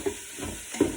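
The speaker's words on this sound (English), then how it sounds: "getting a little bit of a sear on that ham" Ham searing in oil in a pot for Southern gumbo, a steady low sizzle with soft stirring scrapes and a couple of brief louder pops, close and alone.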